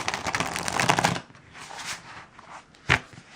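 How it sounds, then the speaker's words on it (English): A plastic deck of playing cards riffled with a side shuffle, a dense burst of flicking clicks for about a second, then softer rustling handling and one sharp snap near the end. "That's how I shuffle this deck,"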